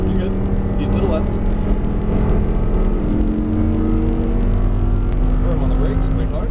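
An Audi R8 on a racetrack accelerates at full throttle, its engine droning loud and steady with rising tones as it pulls hard, while an instructor speaks over the cabin noise.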